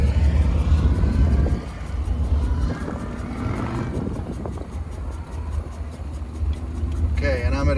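A 1957 Ford Thunderbird's engine runs smoothly as it drives and turns, a steady low rumble that stays fairly loud throughout, with brief mechanical clatter and rising tones near the end.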